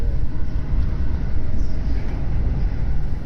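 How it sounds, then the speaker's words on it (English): Another train rushing past in the opposite direction on a multi-track main line, heard from inside a moving train as a loud, continuous roaring rumble. "here's the part where I get jump scared by another train going in the opposite direction"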